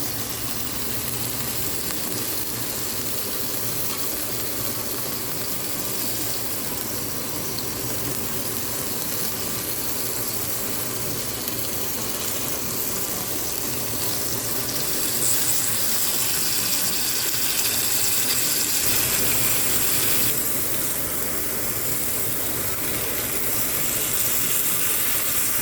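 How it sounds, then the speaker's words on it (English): Wet mushrooms laid on a hot grill without added oil give a steady, loud, hissing sizzle that runs without pause throughout and grows slightly brighter partway through. "So we're going to put in those wet mushrooms and get it all cooked up."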